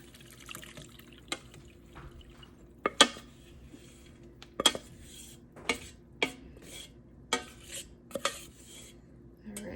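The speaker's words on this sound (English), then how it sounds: "And then I just have a kitchen strainer here." Elderberry syrup with rose hips, cinnamon and clove strains through a kitchen strainer, giving scattered sharp drips and light metallic clinks at uneven intervals over a quiet background.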